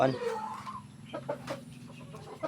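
A hybrid chicken raised from hatching clucks in a small coop, with soft repeated clucks close by and a person talking over them.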